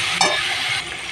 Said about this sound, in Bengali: হলুদ দিয়ে একটু ভেজে নেব